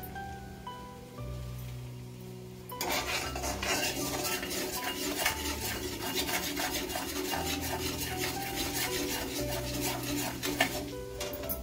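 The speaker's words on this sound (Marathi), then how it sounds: "मध्ये मध्ये असे हलवून घ्यायला पाहिजे थोडं थोडं, म्हणजे थंड होऊन जाते." Macaroni is stirred in a pan with a utensil, a near, continuous scraping and rubbing with clinks against the metal, growing busier after a quieter start; no talk.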